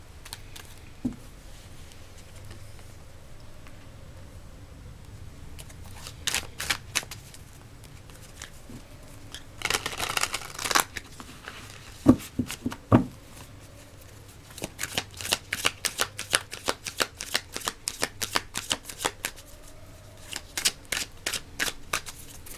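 A deck of tarot cards is shuffled by hand in bursts of rapid riffling clicks and flutters, close and fairly quiet, with short pauses between rounds.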